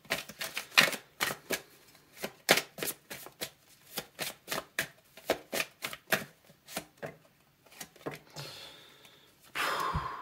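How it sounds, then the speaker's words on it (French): Tarot cards are shuffled and drawn in a steady run of crisp, close riffling snaps and slaps, about twenty sharp strokes in quick succession, followed by a brief rustling swish at the end. "On va sortir d'autres cartes."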